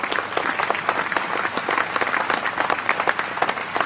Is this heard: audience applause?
yes